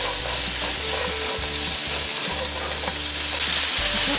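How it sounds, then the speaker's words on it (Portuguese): Red onion fries in a pan while being stirred, a loud continuous sizzle up close with scraping stir strokes and a low rhythmic rumble underneath, no speech. "Aqui eu vou mexendo para poder fritar por inteira, né, a cebola."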